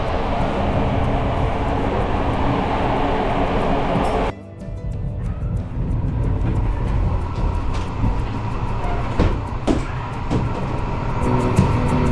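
Inside a moving Polish Intercity passenger train, a loud steady rumble and roar of wheels on track fills the carriage, with a short dip at one point and faint rattles throughout.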